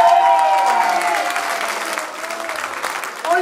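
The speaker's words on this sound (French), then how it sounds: "On les applaudit très fort, Sabine." A concert audience claps loudly and continuously, a dense wash of applause that eases slightly toward the end.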